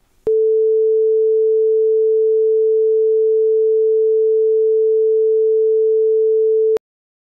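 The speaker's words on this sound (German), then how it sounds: "440 Hertz. Das entspricht dem Kammerton A, nach welchem sich ohnehin unser ganzes Tonsystem richtet. Mit einer reinen Sinuskurve hört sich das so an." A pure 440 Hz sine tone at concert pitch A holds perfectly steady and loud for about six and a half seconds, starting and stopping abruptly, with nothing else around it.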